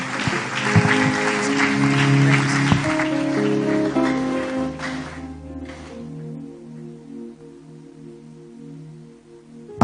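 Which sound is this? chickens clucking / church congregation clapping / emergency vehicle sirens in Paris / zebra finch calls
church congregation clapping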